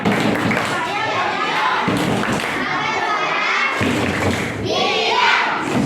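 A classroom of children does the 'tepuk anak diam' clapping routine, with rhythmic group claps and chanting voices filling the room loudly and continuously.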